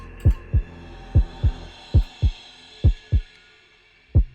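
A heartbeat sensor in a video game sends out a steady, thumping double-beat pulse, repeating four times in a low, muffled throb with nothing else around it.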